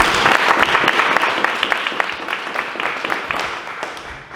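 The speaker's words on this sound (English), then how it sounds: "I want everybody to give them a huge round of applause." An audience at a community council launch event gives a warm round of applause, dense steady clapping from many hands that gradually thins toward the end.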